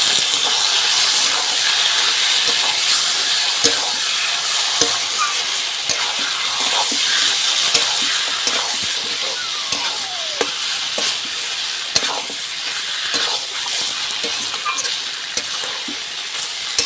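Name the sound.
chicken added to hot spice masala, sizzling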